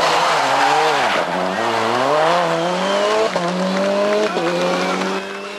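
A Citroën Xsara T4 rally car races on asphalt roads near Lyon, its engine loud and close, revving up and down through gear changes, with brief tyre squeal and a commentator's voice over it.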